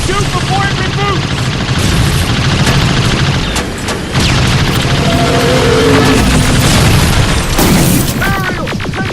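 Loud, continuous combat in the video game Terminator Resistance: heavy booms and bursts of gunfire pile over each other, while voices shout over the noise.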